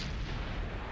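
Tank cannon fire in World of Tanks: a dense, loud, rumbling blast that fills the whole short moment with heavy low-end boom.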